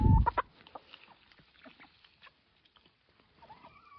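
A black chicken gives a few soft, scattered clucks in a quiet farmyard on a summer day, after a brief loud bump at the start.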